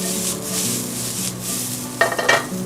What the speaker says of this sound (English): You want to saute this for about a minute or so until you can really kind of smell it